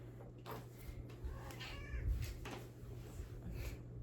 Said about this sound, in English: this is one of my kitties.